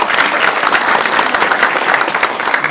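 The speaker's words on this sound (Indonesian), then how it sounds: "Boleh tepuk tangan yang meriah untuk kita semua." An audience claps lively at a young volunteers' declaration event, a loud, dense, continuous wash of many hands with no pauses and little else audible.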